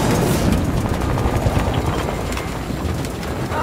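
A helicopter in a video game flies with a steady, loud rotor thrum and chopping beat that holds throughout, with no speech over it.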